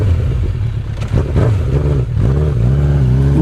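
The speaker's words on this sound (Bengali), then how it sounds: "ও গাড়ি স্টার্ট দিয়ে চলে গেল" Motorcycle engine starting, then revving and pulling away, a steady loud mid-pitched drone with rising throttle swells, close and continuous throughout.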